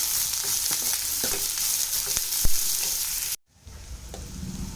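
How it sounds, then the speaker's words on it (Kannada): Chopped onion frying in a pan for masala bread, a steady close sizzle with stirring scrapes that cuts out abruptly near the end, then returns softer. "ಈ ಈರುಳ್ಳಿ ಹೆಚ್ಕೊಂಡಿರ್ತೀವಲ್ಲ ಇದು ಕೂಡ ಸೇರಿಸ್ಕೊಂಡು ಇದನ್ನು ಚೆನ್ನಾಗಿ ಫ್ರೈ ಮಾಡ್ಕೊಳ್ಳಿ"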